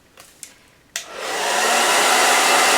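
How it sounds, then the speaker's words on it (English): Blow dryer used to heat a metal eyelash curler: a few faint clicks, then the dryer switches on and ramps up into a loud, steady close-up whooshing hum. "So I just heat up my metal eyelash curler with my blow dryer."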